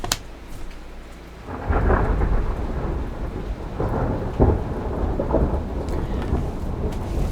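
Low rolling thunder rumbles through a steady rainstorm, with a quiet stretch before a louder swell of rain and distant booms that peak near the middle and keep grumbling to the end.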